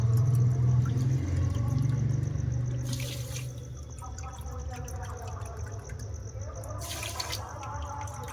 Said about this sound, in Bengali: 2 বাটি চিনি দিয়ে দেবো